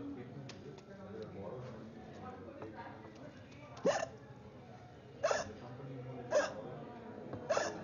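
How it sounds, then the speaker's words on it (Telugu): Four sharp hiccups at irregular intervals, close and fairly loud, over a steady murmur of background talk and room noise. "వెక్కిళ్ళు వస్తే నాకు ఆపడం తెలుసు"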